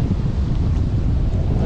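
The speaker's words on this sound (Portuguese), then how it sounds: "olha a ventania" Strong wind roars steadily across the microphone at a marina during a fishing outing, a dense, continuous low rumble with no breaks and no clear voice above it.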